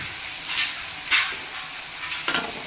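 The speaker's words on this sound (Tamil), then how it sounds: "இப்படி தாங்க நான் மாங்காய் தாளிப்பேன்." Steady sizzling of mango being tempered in a hot pan with a few stirring scrapes, close and moderately loud, no voices.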